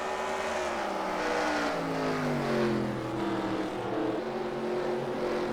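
Race cars on the final lap at Columbus in the SCRL Grand National Series, engines droning steadily down the backstretch with pitch sweeping downward as they pass.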